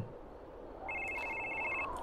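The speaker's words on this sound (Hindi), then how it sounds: "फोन आया क्या मस्तांग से कहाँ बज रहा है फ़ोन" A telephone rings inside a horror video game, a thin electronic trill that starts partway in and keeps going over a low ambient hum.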